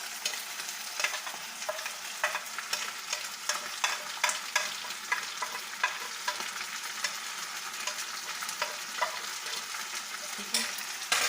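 Curry leaves and ground spices sizzle and crackle in hot oil in a pan, with steady dense frying hiss, scattered sharp pops and occasional scraping stirs, close and continuous throughout.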